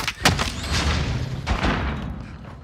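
A frag grenade detonates in a tactical shooter video game, a loud booming blast near the start followed by rumbling echoes and a second thud, with no talk over it.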